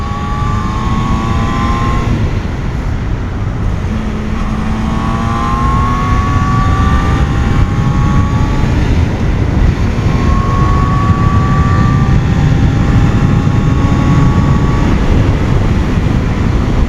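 A Yamaha FZR 600 motorcycle restricted to 48 horsepower and geared like a sports bike accelerates hard at speed. Its engine note climbs steadily in pitch through repeated rising sweeps over loud, constant wind roar, with no talking.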